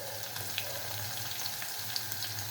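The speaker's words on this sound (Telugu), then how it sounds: "చూద్దాం వేగుతుంది. అల్లం, అల్లం వెల్లిగడ్డ వేస్తుందండి." Ginger and garlic fry in hot oil for okra sambar, a continuous close sizzle with faint crackling pops throughout the short stretch.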